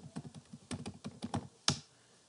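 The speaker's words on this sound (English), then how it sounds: "let me type in my password here" A password typed on a computer keyboard, a quick run of about a dozen close, crisp key taps followed by a sharper final keystroke like an enter press, then quiet.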